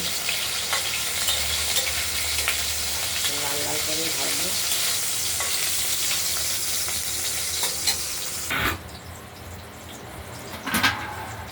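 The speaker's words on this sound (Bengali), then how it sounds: "এগুলোকে আমরা ভেজে নিচ্ছি" Lentil dumplings (bori) sizzle steadily as they fry in a pan, with occasional stirring and a few clinks near the end when the hiss drops away briefly.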